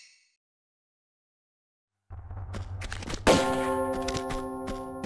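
A bell rings in the Ice Palace level of Tomb Raider 2 Remastered. After about two seconds of silence there is a low rumble, then one loud metallic clang whose bright tones sustain and ring out.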